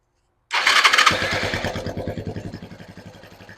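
A 1993 Suzuki GN 125 motorcycle engine cranks and fires up, then settles into a steady rapid thumping idle, loud and close.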